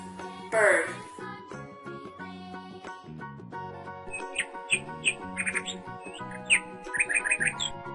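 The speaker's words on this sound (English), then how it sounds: "bird." Chirps and squawks of a bird come in short bursts with a steady rhythm over a bright, jingly children's music backing, with a loud squawk near the start.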